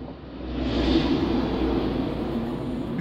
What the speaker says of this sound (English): Here comes a plane!